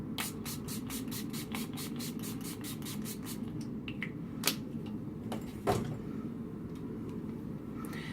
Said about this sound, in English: I'm going to use my NYX Matte Finishing Spray and just go ham.